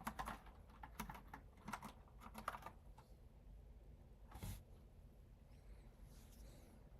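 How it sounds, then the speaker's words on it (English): Fingers type on a computer keyboard during a coding session, producing quiet bursts of close, clicky keystrokes with short pauses between them. "I wish I could type correctly."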